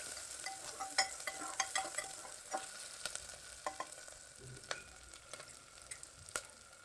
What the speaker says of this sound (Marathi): हिरव्या मिरच्या टाकल्या आणि हे सर्व छान आपल्याला भाजून घ्यायचं आहे